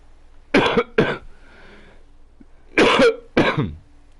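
Two pairs of harsh, close coughs, each pair followed by a brief pause, with no talking.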